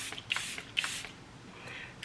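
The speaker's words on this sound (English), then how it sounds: "I'm going in with the Charlotte Tilbury Airbrush Flawless Setting Spray" Charlotte Tilbury Airbrush Flawless Setting Spray misted in two quick, close hissing bursts, followed by a fainter third spritz, with no talk.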